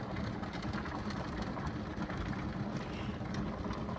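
Steady, continuous rumbling hum of a Presto electric digital canner running in a home kitchen, a constant broadband whir with no breaks at a moderate level and no voices.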